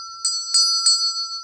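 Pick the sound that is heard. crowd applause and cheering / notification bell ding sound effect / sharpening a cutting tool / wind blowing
notification bell ding sound effect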